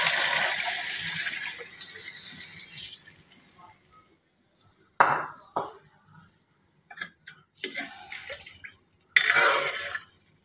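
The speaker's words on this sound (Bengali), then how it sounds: "আমি মশলা ভেজানো পানিটা দিয়ে দিচ্ছি।" Spice-soaked water pours into a hot pan of frying ground spice paste on a clay stove, a loud gushing hiss that fades, followed by several sharp clinks and scrapes of a utensil against the pan.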